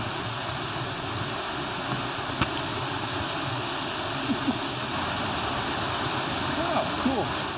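Water at the Castor Shut-Ins swimming hole rushes in a steady broadband wash, constant and fairly loud, with faint voices and small splashes under it.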